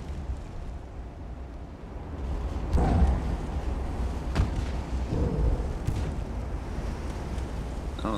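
Naval main battery guns fire in Ultimate Admiral: Dreadnoughts, several heavy booming shots over a steady low rumble, with a couple of sharper reports spaced a second or two apart.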